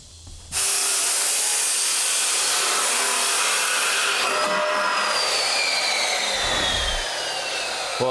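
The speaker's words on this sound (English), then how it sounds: "Yes, it is an ordinary chop saw. This has an abrasive blade to it." An ordinary chop saw fitted with an abrasive blade cuts through steel framing with a loud, harsh, sustained grinding whine that starts abruptly and runs on close up without speech.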